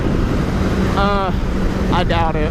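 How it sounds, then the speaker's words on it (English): Wind buffets the microphone outdoors in a continuous low rumble, loud and close, while someone speaks briefly over it. "Man, it got windy."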